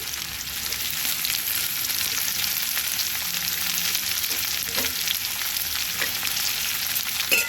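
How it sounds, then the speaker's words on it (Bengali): Chopped onion, from a large onion, fries in a pan with green chilli, giving a loud, constant close-up sizzle with faint stirring knocks throughout. "পেঁয়াজটাকে ভেজে দেবো"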